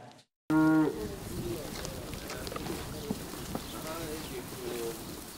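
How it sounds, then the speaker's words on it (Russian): Montbéliarde dairy cows on a farm in a village, with faint lowing and livestock shuffling under a continuous voice, after a brief tonal burst at the start. "Коровы французской породы Монбильярд и на ферме в селении Хаталдон чувствуют себя прекрасно."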